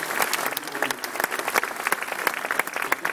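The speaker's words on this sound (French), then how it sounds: "je crois qu'on peut l'applaudir parce que c'est les deux regagnants" Applause and clapping from a crowd at a Girondins de Bordeaux garden party, honouring two winners; dense, steady clapping fills the whole stretch with scattered sharper claps, fairly close and loud.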